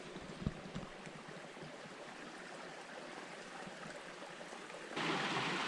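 A forest creek pours into a river at a washed-out bank, making a steady broadband rush of flowing water, fairly faint and unbroken, with a couple of light knocks early and a louder swell at the end.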